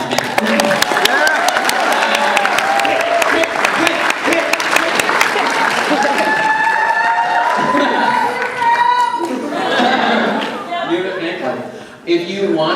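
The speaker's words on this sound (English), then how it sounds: "Round of applause for Kate." Audience applause and cheering break out for Kate at a Kawaii Kon 2018 anime convention Q&A, loud, dense clapping from a large crowd sustained throughout, with shouts and chatter mixed in.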